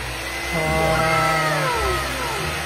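A hair dryer blows steadily with a rising, whining motor pitch partway through, then settles back; no talking.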